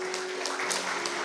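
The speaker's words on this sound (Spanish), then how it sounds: "Dale un fuerte aplauso al Señor." A church congregation claps together in a steady, dense wash of applause, with no single claps standing out, over a faint sustained hum.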